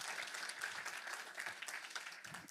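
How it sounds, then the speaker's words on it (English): A university audience gives a final round of applause for the presenters at a Three Minute Thesis competition final, with dense, continuous clapping from many hands filling the room at a steady level. "Could I please ask one final round of applause for all of our presenters tonight?"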